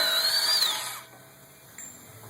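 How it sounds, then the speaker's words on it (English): A power tool spins a 36mm socket to remove a castle axle nut while swapping a front wheel bearing hub assembly, giving one loud whirring burst of about a second that winds down, followed by quiet. "You want to use a 36mm socket to remove this castle nut."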